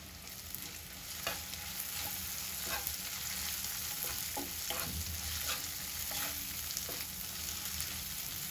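Fenugreek and mustard seeds sizzle in hot oil at the edge of a pan for turmeric pickle, a steady close frying hiss broken by occasional crisp pops and light stirring clicks, no voices.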